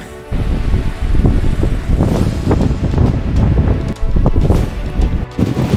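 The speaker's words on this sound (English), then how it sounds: "It is super windy out." Strong wind buffets the microphone on a hiking viewpoint in Big Bend National Park, a continuous heavy roar with gusty surges, loud and close, with no voices.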